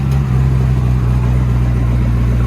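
A Hennessey-tuned 800 hp Chevy Corvette ZR-1 with a 6.2L supercharged V8 and true dual exhaust rumbles loud and close in a steady, deep idle with a slight rise in revs.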